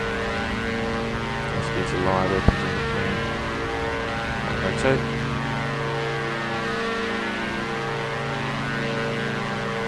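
Twin propeller engines of a Diamond DA62 in the X-Plane 11 flight simulator drone loudly and steadily, a thick harmonic hum with a brief tonal swell, while a voice talks briefly over it during the takeoff roll.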